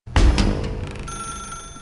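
A telephone rings in the video game Oxenfree, a loud bell-like trill that starts abruptly and then sustains with a steady ringing tone, with no voices over it.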